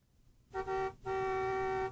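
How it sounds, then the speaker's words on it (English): A car horn honking outside, two blasts: a short toot followed by a brief gap and then a longer, steady held honk, loud and clear with nothing else beneath it. "Martha's heart leapt as she heard the car honking outside."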